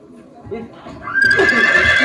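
A performer in a comedy folk play imitates a horse's neigh, a rising, wavering whinny that starts after some indistinct vocal sounds and carries loud and close near the end.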